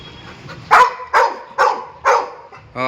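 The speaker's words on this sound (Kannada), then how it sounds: "ಅವನು ಕೇಳಿಸ್ಬಿಟ್ಟಿದೆ ನೋಡಿ, ಹೆಂಗೆ ಬೊಗಳ್ತಾ ಇರ್ತಾನೆ" A pet dog, eager for a trip to the park, lets out four loud, close, evenly spaced barks, with a quick yelp at the end.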